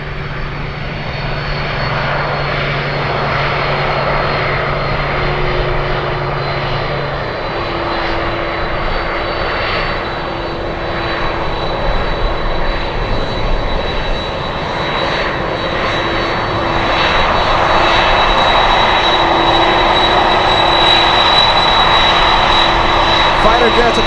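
A Boeing 747 Dreamlifter taxiing at Anchorage airport gives a steady, loud jet engine roar that swells slightly toward the end, with a high whine running throughout and faint voices in the background.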